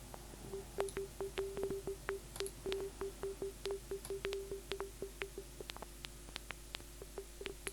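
Synthesized paper-crumpling clicks built in the Vital VST synthesizer: a steady stream of short, quiet crackling ticks over a faint sustained tone, irregular and dense at first, then thinning out.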